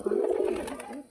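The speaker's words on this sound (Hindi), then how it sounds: "तो गाइस देखो हमारे सारे कितना कबूतर है।" A pigeon gives a single short, soft, throaty coo, close by and alone, among a flock of pigeons with chicks and eggs.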